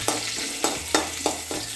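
A spoon scrapes through Kerala mackerel fish curry in a pan, making five evenly spaced stirring strokes over a continuous close sizzle.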